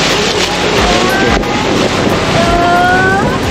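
Steady motorboat engine drone on a river in Brunei with wind buffeting, a continuous loud rumble throughout.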